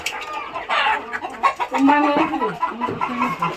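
Hens cluck on a farm of desi chickens, one apparently settling down to lay an egg, with repeated close clucks and fowl calls that come in uneven bursts and fill the space.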